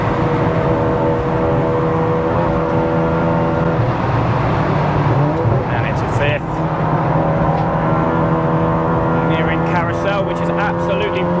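A 500+ bhp big-turbo MK7 Volkswagen Golf R track car held at full throttle on the Nürburgring, a loud, continuous in-cabin engine drone with steady harmonics, a brief dip near the middle, and a voice talking over it.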